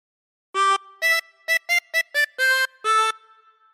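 A chromatic harmonica plays eight clear separate notes of the We Wish You a Merry Christmas melody, some short and some held longer, bright and close with no other sound.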